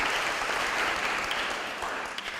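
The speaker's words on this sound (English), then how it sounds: "How about a round of applause for the grandparents?" Applause fills a lecture hall at an ethics and culture lecture, a broad even patter of many hands heard from a distance, fading slightly toward the end.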